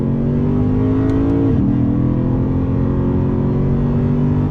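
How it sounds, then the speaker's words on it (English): The loud naturally aspirated V8 of a 2020 Lexus RC F drones steadily under throttle in manual shift mode, with a brief dip in pitch as it shifts before climbing again, heard from inside the car. "Nice sound coming from that naturally aspirated V8."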